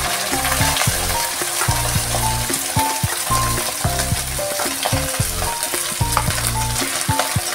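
Drained cooked rice and slit green chillies being stirred in a frying pan for fried rice, a steady loud sizzle with repeated scraping strokes of a spatula in an uneven rhythm, close up, no voices.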